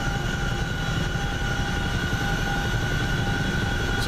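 Chinook helicopter in the DCS World flight game, a loud, steady rotor and turbine roar with a constant whine layered on top, sustained without a break and with no talking.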